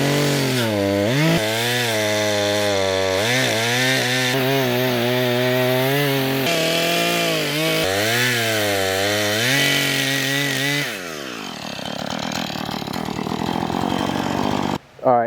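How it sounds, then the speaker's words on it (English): A chainsaw cuts a tree stump flush to the ground, its engine loud and close, repeatedly bogging and revving in uneven surges before settling into a ragged idle and stopping abruptly. "the chain on my chainsaw is absolutely smoked"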